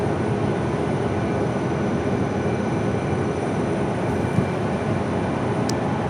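Heavy wide-body airliner passing at Phoenix Sky Harbor airport, a continuous loud broadband roar holding steady throughout with no talk.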